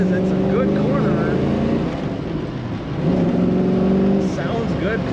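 A 1970 Ford Mustang Mach 1 fastback with the R-code engine accelerates in second gear through a traffic circle, a steady, loud, close engine drone that swells again partway through.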